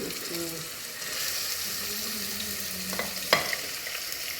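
Onions and green chillies frying in oil in a pan for mutton kheema, a constant sizzle with faint voices and a clink near the end.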